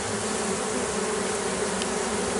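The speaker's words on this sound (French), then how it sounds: "Là j'ai des abeilles là-haut mais qui battent le rappel aussi" A honeybee colony being moved into a hive box gives off a dense, steady buzz of many bees close by, continuous and loud, with no voices.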